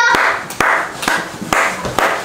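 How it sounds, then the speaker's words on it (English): A father and his family clap hands together in a loose, uneven rhythm, a handful of sharp close claps spaced across a couple of seconds. "None of them know why they're clapping, they just know Dad's doing it too."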